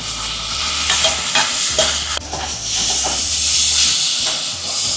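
Fried eggplant sizzles in a pan of cooking fenugreek greens for a Bengali begun methi shaak. The frying hiss is loud and constant, with stirring scrapes breaking through and no talking.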